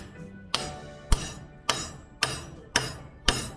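Hammer tapping a steam locomotive crosshead into its guide in a roundhouse workshop, six sharp metallic blows at an even, unhurried pace, each ringing briefly before the next, close and loud.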